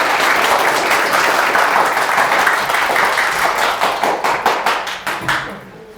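Audience applause welcoming a professor of animal science from Chonnam National University to a public science lecture in Gwangju; steady, dense clapping from a sizable crowd that thins into scattered individual claps before fading out.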